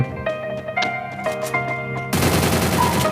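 Gunfire in the Free Fire mobile game comes as a run of sharp, rapid shots over a steady tonal game hum, then a sudden loud burst of dense noise near the end, with no talking.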